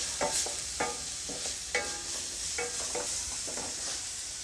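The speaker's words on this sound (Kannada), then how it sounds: "ಹಸಿಮೆಣ್ಸಿನ್ಕಾಯಿ ಮತ್ತು ಈರುಳ್ಳಿದು ಹಸಿ ಸ್ಮೆಲ್ ಹೋಗೋವರೆಗೂ ಇದನ್ನು ಚೆನ್ನಾಗಿ ಸ್ವಲ್ಪ ಫ್ರೈ ಮಾಡ್ಕೊಳ್ಳಿ" Green chillies and onion frying in a pan for an aloo paratha filling. A steady sizzle runs throughout, with rhythmic scraping stirs at regular intervals.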